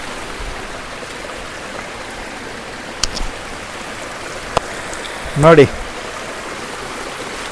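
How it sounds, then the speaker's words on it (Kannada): Water at the source of the Kali River in Diggi, Uttara Kannada, flows out from under a rock with a steady, soft rushing. A voice speaks briefly and a few small knocks stand out. "ಕಲ್ಲು ಬಂಡೆಯ ಅಡಿಯಿಂದ ನೀರು ಹರಿತಾ ಇದೆ."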